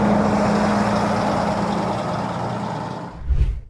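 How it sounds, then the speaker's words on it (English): Gravel trucks rolling in along a rural road produce a loud, steady broadband rumble that holds for about three seconds, then drops away abruptly, leaving a brief low thump at the end. No talking. "everyone has to yell car and get off the road because the gravel trucks are coming in"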